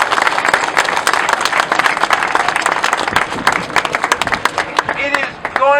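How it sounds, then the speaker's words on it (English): Protest crowd breaking into clapping at a rally, irregular claps with scattered voices and talk in the crowd, a speaker's voice rising again near the end. "let's give yourselves a great big round of applause"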